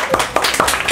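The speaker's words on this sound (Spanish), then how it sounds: "Quiero darle un aplauso a Miguel Juan porque tuvo bien su segunda pregunta" Brief applause for a student in a school classroom, a few scattered claps close by over a roomy background.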